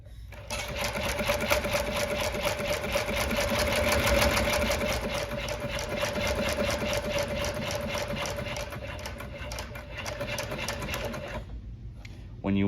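A Weaver 205 sewing machine stitches in a fast, even mechanical chatter, close and steady for about eleven seconds before stopping abruptly.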